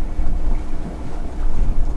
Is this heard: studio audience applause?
no